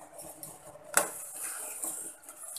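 A spoon stirs in a pot of water with turmeric and salt, giving soft metallic scrapes and one sharp clink against the pot, quiet and close in a home kitchen, with no talk.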